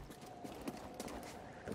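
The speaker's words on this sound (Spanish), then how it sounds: "la cabra esta salta por ahí todo" Rapid hoof clatter from a goat bounding about over rocky ground in Star Wars Jedi Fallen Order, light irregular clip-clop taps scattered over a steady background hum, faint and fairly close.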